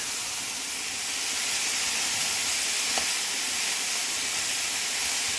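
Spinach with salt hitting a hot pan, a loud, even steamy hiss and sizzle close up that holds steady for a few seconds, with no voices.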